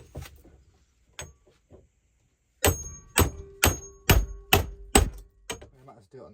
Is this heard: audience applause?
no